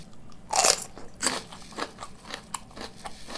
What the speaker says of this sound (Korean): 이쯤에서 오이고추 한 입.